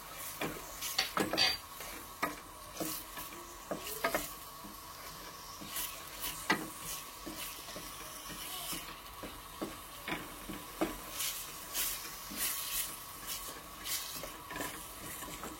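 Onions frying in a pan with a spoonful of salt added on top, stirred with a utensil: a steady low sizzle runs under repeated sharp scraping and tapping strokes at an uneven rhythm, close and moderately loud, with no talking.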